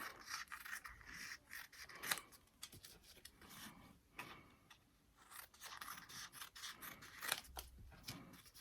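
Scissors cut laminated crepe paper between wires in a series of close, crisp snips and rasping rubs, with short pauses between the cuts and no voices.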